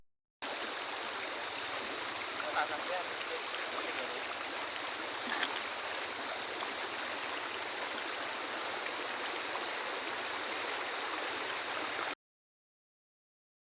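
A hill river near Saralpara flows in a steady, unbroken rush of water noise, even and moderately distant, with no voices.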